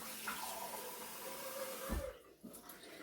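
Water runs into a pot for cooking potatoes, a steady close splashing pour with a rising tone that stops abruptly near the end, followed by a few faint drips.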